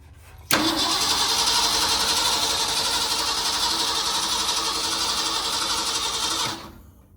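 A 1967 Ford Mustang that has sat unrun for 16 years cranking without catching, a loud, steady rapid whirring of the starter lasting about six seconds, then stopping abruptly.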